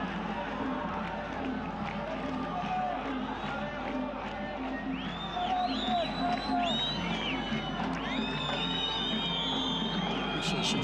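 Stadium football crowd at an AFC Cup 2022 match between East Riffa and Al Riffa of Bahrain in the closing seconds of extra time, a dense continuous roar with scattered whistles and shouts, a commentator talking over it.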